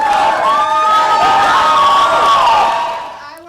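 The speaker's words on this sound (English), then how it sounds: "Their last few yards were met by the crowd with chants of support and encouragement" A crowd cheers and chants loudly in support of marchers arriving at the end of a 50-mile march to Janesville, a sustained wash of voices and whoops that fades slightly at the end.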